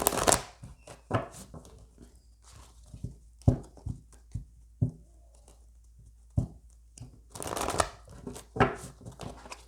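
A deck of oracle cards shuffled by hand, giving repeated crisp riffling and slapping bursts in uneven clusters, close and fairly loud, with a longer busy flurry near the end and no voices.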